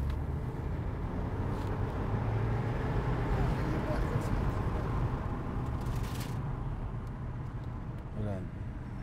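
A Volkswagen Atlas driving in sport mode, heard from inside the cabin as a steady, dense low engine and road rumble that holds at an even level throughout.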